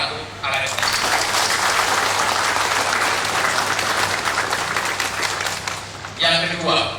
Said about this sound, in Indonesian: Tepuk tangan untuk Alex.